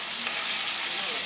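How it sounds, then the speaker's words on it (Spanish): Baby squid (chipirones) fry in olive oil with a steady, dense, loud sizzle that holds evenly from start to finish, up close with no voices. "Lo echamos, lo freímos con bastante amor."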